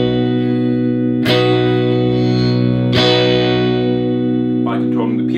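An electric guitar with a piezo bridge pickup blended with its magnetic pickups plays chords with bright, full sustain, struck twice and left to decay, then a few quicker picked notes.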